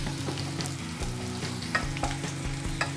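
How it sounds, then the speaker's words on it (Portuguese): Shredded cabbage sizzles steadily as it wilts in a hot pan on a home stove, a continuous close fry with faint stirring clicks and scrapes throughout, no voices. "Então agora eu vou deixar murchar esse repolho."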